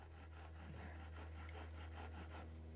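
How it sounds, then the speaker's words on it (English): A wooden bow drill, made from a couple of sticks and a shoelace, rubs steadily to make fire, giving a continuous close, rhythmic scraping and grinding with regular back-and-forth strokes over a low background hum. "getting the bow drill going, just with a couple of sticks and a shoelace"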